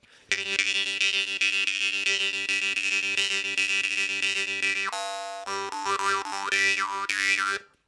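A Temir Komuz jaw harp twangs in a rapid, buzzy rhythm on a steady drone, its overtones sweeping up and down, ending in a ringing decay.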